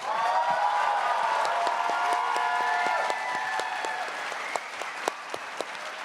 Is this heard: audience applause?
yes